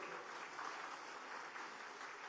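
Applause from a crowd honoring elderly couples at a temple-sponsored ceremony, a steady, dense clapping wash that holds even throughout, fairly faint and distant with no talk over it.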